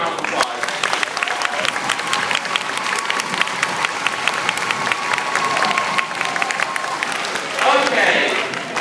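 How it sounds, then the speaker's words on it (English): An audience bursts into sustained applause, dense crackling clapping from many hands filling the room, with scattered cheers and a brief swell near the end; it is loud and close. "another round of applause"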